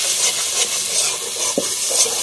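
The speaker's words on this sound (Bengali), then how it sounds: "হলুদ গুঁড়ো আর একটু জিরে গুঁড়ো দিয়ে আমি মশলাটা ভালোভাবে কষিয়ে নেবো।" Spice paste with turmeric, cumin and chili powder sizzles and frys in a pan while being stirred, a steady close hiss with one brief utensil knock partway through.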